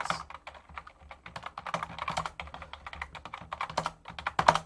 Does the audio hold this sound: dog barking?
no